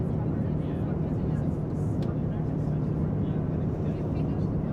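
Steady broadband engine and airflow roar inside the rear economy cabin of an Etihad Airbus A350 in flight between Abu Dhabi and Paris, continuous and fairly loud, with faint voices in the background.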